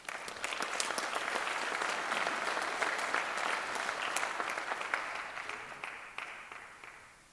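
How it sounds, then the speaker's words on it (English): A room of attendees at an electric cooperative's annual meeting applauds district members, steady moderate clapping that stays even for several seconds, then tapers off near the end with no talking. "folks, if you want to give them an applaud here"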